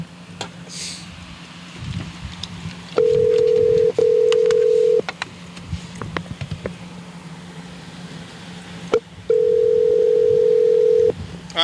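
Telephone dialing tones while a call is placed to a grandmother: two long steady dial-tone-like beeps, each roughly two seconds, separated by a quiet gap, over a low background hum with faint clicks.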